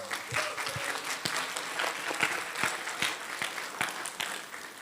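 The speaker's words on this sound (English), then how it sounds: "Give Carrie a round of applause." A seminar audience at a life-coaching summit breaks into applause, dense steady clapping with a few sharp nearby claps standing out, sustained for several seconds.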